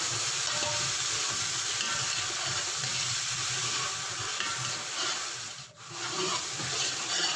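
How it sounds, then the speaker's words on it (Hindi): Tomato and chili paste fries in a pan with a dense, continuous sizzle and crackle, close and steady, with faint stirring scrapes and no talk. "टोमेटो पेस्ट, एक से 2 मिनट के लिए भूनेंगे।"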